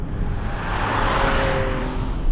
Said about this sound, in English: the engine lets you know it's there, and it does produce a different sound, but one that is enjoyable